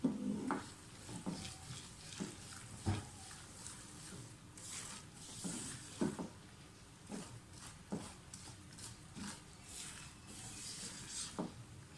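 Gram flour (besan) roasts in a pan for halwa over a low flame and is stirred constantly, giving soft sizzling with repeated scraping and clinking of the spoon against the pan, quiet and close.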